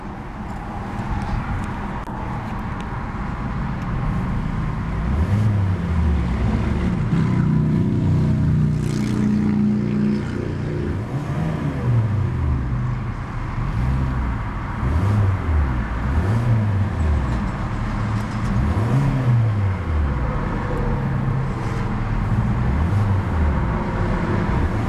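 The 1.8-liter four-cylinder engine of a 2014 Hyundai Elantra SE idles loudly, then revs up repeatedly in several rising and falling bursts, close by with no talking.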